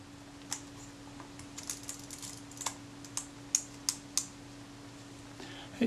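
Small mechanical clicks and snaps come from the film advance lever of a Kodak Retina IIIc camera with a sticking advance and a shutter that will not fire. The sounds are faint and close, scattered irregularly over a steady low hum.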